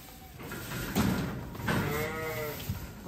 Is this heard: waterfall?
no